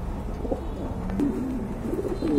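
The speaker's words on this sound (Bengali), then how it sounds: "এটা বিগ সাইজের এক জোড়া কবুতর" A big-sized pair of domestic pigeons, offered for sale at a pigeon market, coos steadily in soft repeated low warbling phrases, close and moderately loud over a light background murmur.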